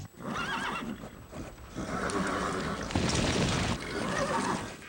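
A horse whinnies loudly in a truck commercial for the Dodge Ram 1500, followed by a rumbling, splashing burst of activity close up.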